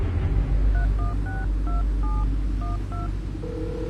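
A telephone number dialed as a quick run of about nine DTMF keypad tones, evenly spaced, over a low rumbling background, ending with a steady tone.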